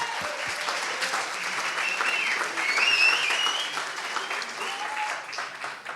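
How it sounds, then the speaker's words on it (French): A theatre audience gives Stéphane Knecht a round of applause, a full patter of many hands clapping that builds slightly toward the middle and then eases off, with a little cheering mixed in. "Je pense qu'on peut l'applaudir"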